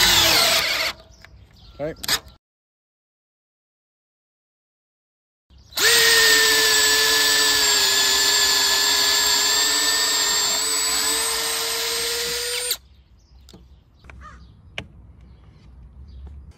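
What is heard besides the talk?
cordless drill running with large bit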